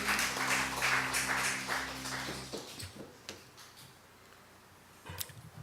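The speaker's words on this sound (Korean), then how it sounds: "우리 하나님께 영광의 박수" A church congregation clapping in praise during a worship service, steady dense applause that fades out after a few seconds, followed by quieter scattered room noises.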